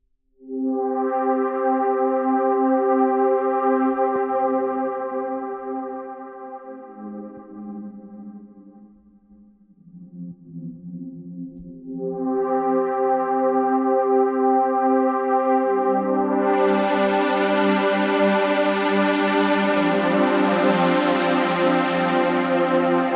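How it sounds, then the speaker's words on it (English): Sustained synth pad chords played from a computer keyboard in Ableton Live for a melodic house session, starting on a held fifth, then shifting lower with a brief dip before fuller, brighter chords swell and ring out to the end. "Picking up a pad sound and using my computer keyboard to hit the notes."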